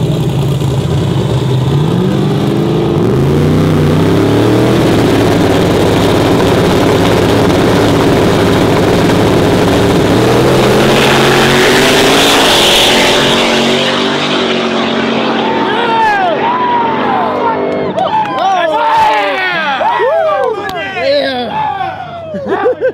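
At a no-prep drag race, a Mazda RX-7 rotary engine roars loud and close, revving hard and climbing through gears before fading as other engines rise and fall with passing pitch sweeps.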